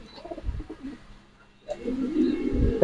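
Racer and fancy pigeons cooing close by, a few low throaty coos in short bursts, loud and near, with a brief pause in the middle before the cooing resumes.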